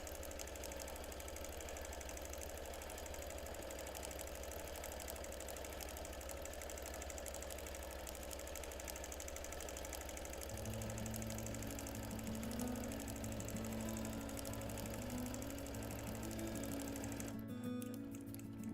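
A quilting sewing machine stitches a custom quilt block at about ten stitches per inch, a continuous close mechanical hum and rapid needle chatter throughout, with the pitch shifting partway through as the stitching speed changes.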